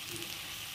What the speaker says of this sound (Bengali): পেঁয়াজটা ভাজছি